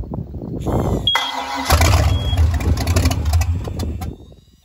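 Volvo Penta 5.7 marine engine, suspected bent crankshaft, cranking over and catching, then running roughly and loudly for a few seconds before winding down.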